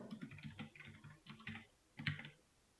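Typing on a computer keyboard while writing web code, quick clustered bursts of soft, close keystrokes with short gaps, fairly quiet and with no voices.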